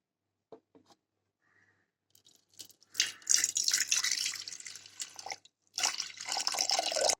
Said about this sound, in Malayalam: അണ്ട പുളി പിഴിയുന്ന പിഴിപുളിയാണിത് ഇതിൻ്റെ ചാറ് നീ ഈ കളത്തിലോട്ട് നമുക്ക് ഒഴിക്കണം